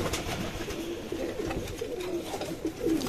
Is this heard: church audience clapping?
no